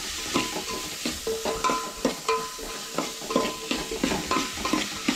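Onions and chilies for jackfruit bhaji are stirred in a sizzling pan, with a spoon scraping and knocking in a steady rhythm of strokes over a continuous frying hiss, no talking.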